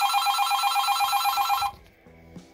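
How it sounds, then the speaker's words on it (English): An AT&T 210 Trimline corded phone's electronic ringer on its high setting warbles loudly in a rapid, steady trill for about a second and a half, then cuts off, leaving quiet room noise. "Now let's listen to the ringer set to high."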